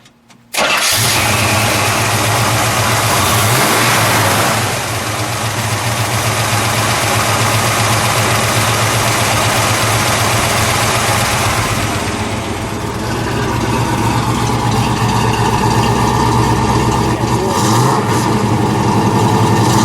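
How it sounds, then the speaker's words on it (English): A 1966 Chevrolet Caprice with a 427 V8 cranks and fires up, then settles into a loud, steady, rumbling idle that stays close and continuous, with brief dips and swells as the throttle is blipped. "why don't we start it up, shall we? And we'll let it idle, and then we'll give it a little gas."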